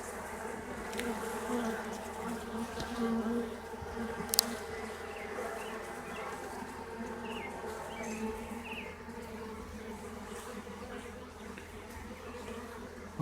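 A swarm of honey bees, a virgin swarm with many queens, buzzes around a queen cage in a dense, steady drone of many wings, close and moderately loud, with a faint click partway through.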